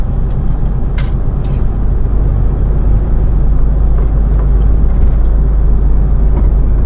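A loaded vehicle rolls downhill on a winding descent toward Carmona in low gear with its exhaust brake on, giving a steady, loud engine drone and exhaust rumble throughout with a few faint clicks and hisses.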